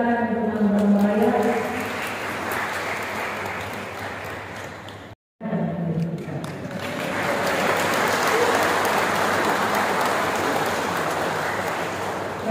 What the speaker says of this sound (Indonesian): mari kita tepuk tangan untuk Mambramo Raya